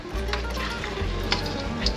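Cooked seal meat being scraped off a surface and back into a boiling pot of seal congee in Greenland, a steady sizzling, bubbling bed with a few scraping clinks near the end, close and fairly loud.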